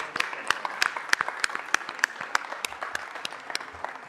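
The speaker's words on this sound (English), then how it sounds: "A round of applause." Applause from a small group of guests and attendees at a city council meeting, steady overlapping claps with a few sharper, louder hand claps standing out over several seconds.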